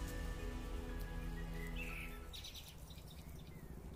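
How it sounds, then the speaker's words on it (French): An unidentified small bird sings in a garden in March, its faint thin chirps standing out for about a second above a constant patter like rain and low ambient rumble. "Je sais pas ce que c'est comme oiseau ça."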